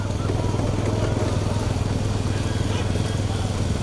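A motorcycle engine drones at a steady idle-like pitch, close and continuous for the whole stretch, with no clear rise or fade, at a bullock cart race.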